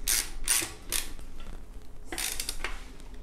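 A bicycle square taper crank is worked and tightened, giving a few separate bursts of metallic ratcheting and clicking, close and moderately loud, with quiet gaps between each turn.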